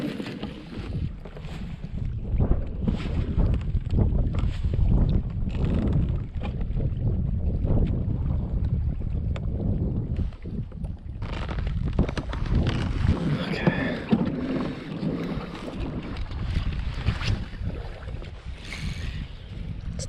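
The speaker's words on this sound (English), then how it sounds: "wind picked up" Steady wind gusting over a lake behind a fishing boat after a storm, a continuous broadband rush with microphone buffeting that roughens in the second half, occasional knocks from the boat, and no clear speech over it.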